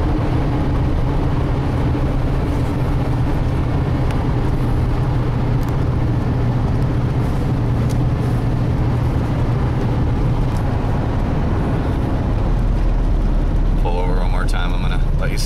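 A 1996 Ford E-350 van engine idles with a steady, continuous low rumble, close and loud throughout, with someone talking over it.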